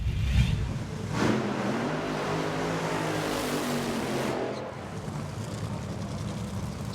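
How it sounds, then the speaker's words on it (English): A Top Fuel dragster tears down the strip at a 2015 FIA/FIM drag racing event, a loud, continuous, broadband engine roar that swells and sweeps before easing slightly near the end, with no voices. "look at all the clutch dust, the noise, the fury that is Top Fuel racing"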